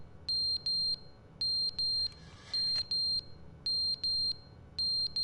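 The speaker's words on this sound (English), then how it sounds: "Oh, it's the fire alarm." A fire alarm in the video game The Stanley Parable sounds in loud, shrill, evenly spaced double beeps repeating in pairs, with a faint rustle between.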